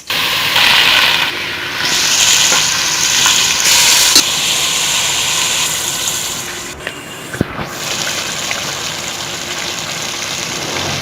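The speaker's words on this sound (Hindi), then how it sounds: "जैसी थोड़ी सी आपकी इलायची और लौंग पकने लग जाए तो आप उसके अंदर अपनी ये अदरक और 4 अदद हरी मिर्च ऐड कर।" Cloves, cardamom, ginger and green chilies frying in ghee for biryani, a loud steady close sizzle throughout with a brief clatter near the end and no talk.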